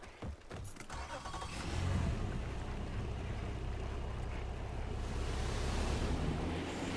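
In the video game Far Cry 5, a boat drifts on a river current: a steady wash of rushing water and broad rumble, with a brief clatter at the start, then a sustained, fairly loud flow without voices.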